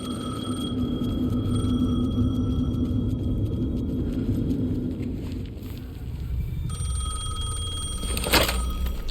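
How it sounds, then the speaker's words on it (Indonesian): A telephone rings in the survival horror game Alan Wake 2, with a steady electronic ringing tone over a heavy low rumble and a brighter burst near the end, no talking. "Ada telepon lagi. Phone again."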